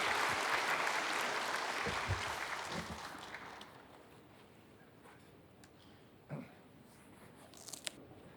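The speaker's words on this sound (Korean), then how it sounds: "나오실 때 박수로 따뜻한 박수로 환영하겠습니다." Warm congregation applause at a church service welcomes a speaker to the front, starting full and then thinning out and fading over a few seconds into near quiet, with a few scattered soft knocks afterward.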